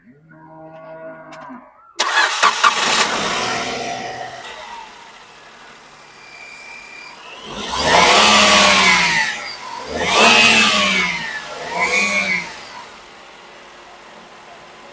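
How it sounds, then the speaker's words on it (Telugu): A 2018 Maruti Suzuki Wagon R engine fires up with a sharp start, settles into a steady idle, then revs up in two loud surges followed by a shorter third blip before dropping back. "నెక్స్ట్ ఒకసారి మనం ఇంజిన్ స్టార్ట్ చేసి ఆయిల్ రిఫ్లెక్షన్ ఏమైనా ఉందేమో మనం ఒకసారి వీడియోలో చెక్ చేద్దామండి."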